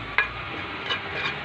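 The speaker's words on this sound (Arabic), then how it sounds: "الوغ ندير لو شامبينيون مع البصل" Mushrooms and onion cooking in a pan, with a continuous broad sizzle and a few soft stirring taps over a short stretch; no talking.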